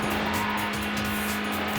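A Citroen C4 racing in Need for Speed: Hot Pursuit 2 on PS2, its engine a steady loud drone with tires squealing continuously throughout, no voices.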